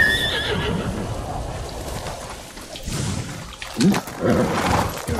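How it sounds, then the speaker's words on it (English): A horse neighs loudly amid rhythmic hoofbeats in the video game Ghost of Tsushima, with other game sounds in the background. "Oh, good horse, Kage."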